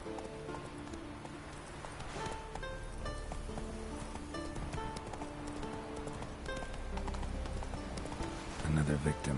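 Roach the horse gallops in a PS4 video game, a steady run of clip-clopping hoofbeats through the whole stretch, with rain-like ambience and a voice talking over it.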